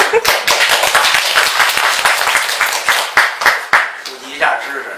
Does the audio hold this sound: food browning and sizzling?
no